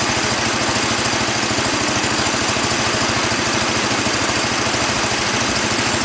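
A Bolens Husky 1050 garden tractor engine idles at its lowest throttle, close and loud, with a steady rapid low thumping throb and no voices.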